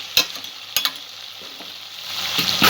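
Ash gourd sautéing in a pan, a close, continuous sizzle broken by a few sharp utensil scrapes and knocks, swelling louder toward the end.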